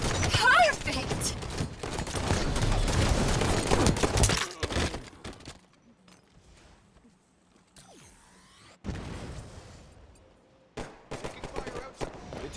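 Rapid gunfire in a video game, loud continuous bursts over the first few seconds, then a quieter stretch and a few further loud bursts toward the end, with a voice talking in places.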